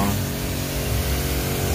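A handheld sprayer misting vitamin solution onto orchid plants, a continuous loud hiss of spray that holds steady throughout, close by and alone.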